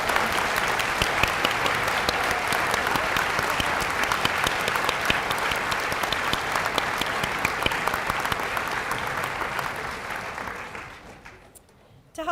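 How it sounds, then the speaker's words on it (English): A large audience at a veterinary white coat ceremony applauds steadily for around ten seconds, with dense, even clapping that fades out near the end and is followed by brief quiet. "Let's give our elk a round of applause."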